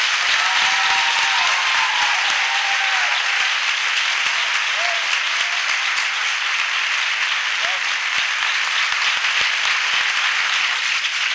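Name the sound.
congregation applauding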